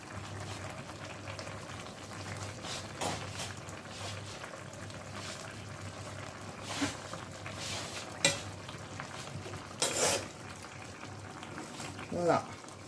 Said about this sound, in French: On va mélanger la viande encore.